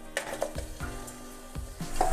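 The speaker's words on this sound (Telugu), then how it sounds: "ఇప్పుడు దీంట్లో మనము శుభ్రంగా కడిగి పెట్టిన 1/2 కేజీ మటన్ వేసుకుందాము." Half a kilo of washed raw mutton goes into a pan of hot oil and turmeric and is stirred, with a few spoon knocks against the pan over a rising sizzle. Close and fairly loud, with no talking.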